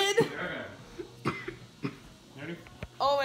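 Several short, sharp coughs scattered among chatter during a blindfolded food-tasting challenge, with people talking throughout and a brief burst of higher-pitched voice at the end.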